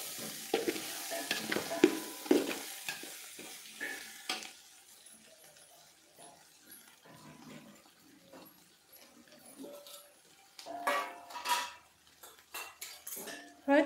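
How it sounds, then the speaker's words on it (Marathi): A spoon stirs turmeric into a cooking pan, with repeated metallic clinks and scraping against the pan over a low sizzle, close by and irregular, busier at the start and again near the end. "हळद छान अशी मिक्स करून झाली"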